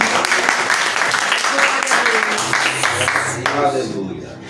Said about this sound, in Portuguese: Vamos receber o presbítero Gilson com as palmas, que glorificam o nome de Jesus.